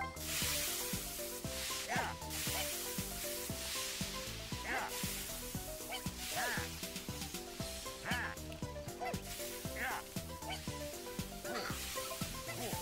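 A cube sizzles in a frying pan in a video game cooking minigame, with short sizzling bursts recurring every couple of seconds over steady, looping game music.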